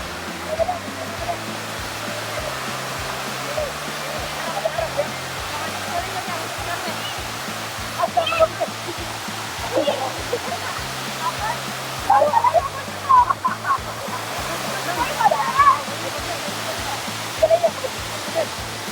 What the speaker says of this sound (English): because of the waterfall type effect, it gives you some cool air from that waterfall